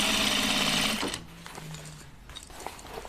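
A sewing machine runs a fast, steady stitching burst through fabric for about a second, then stops, leaving faint handling noises afterward.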